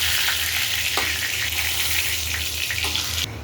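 Oil sizzles and crackles loudly and continuously in a pan as rohu fish is fried, with a bright, dense hiss and faint stirring clatter.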